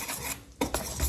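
Muffin batter with melted coconut oil is stirred in a bowl for chocolate mint muffins, making a brief run of scraping and light clinking strokes close by, with no voices.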